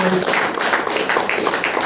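An audience at an evening debate about Bahrain's first cathedral claps in a loud, steady wash of applause, with a brief trace of a voice at the start.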